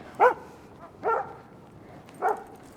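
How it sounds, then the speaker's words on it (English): A small poodle-doodle dog barks three times at spaced intervals during a winter walk outdoors in Ennis, Montana, the barks moderately near over a quiet background. "Look at this little poodle doodle dog"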